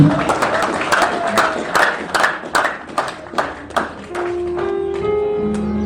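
Congregation at a church service claps in a burst of loud, rhythmic applause, sharp hand strikes repeating steadily for several seconds before giving way to a sustained tonal sound like singing or keyboard.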